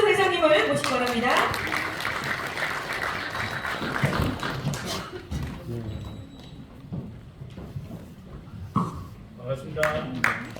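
An audience at a formal anniversary ceremony claps and applauds, the sound swelling and then thinning out, with a voice speaking over it at the start.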